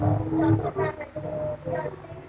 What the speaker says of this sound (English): You guys hear a howl of wolves, a wolf pack